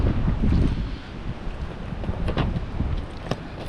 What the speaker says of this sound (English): I knew it was windy, but I didn't think, it was this windy.